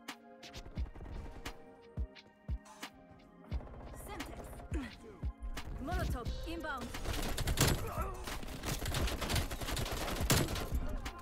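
Tundra rifle fire in a first-person shooter, sharp gunshots ringing out first singly, then in dense rapid bursts amid game effects and a voice commentating over the action.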